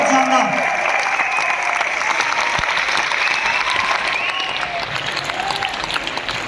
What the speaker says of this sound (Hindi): सर दोनों हाथ ऊपर करके तालियां रुकनी नहीं चाहिए सर